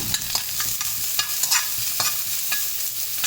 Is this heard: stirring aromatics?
yes